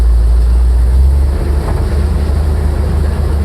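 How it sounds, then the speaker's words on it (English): Loud, close engine rumble from an AM General Humvee working the throttle on an off-road obstacle climb, a deep steady drone with wind buffeting the microphone. "I'm going to manipulate the throttle on this because it is a totally different ball game going up it"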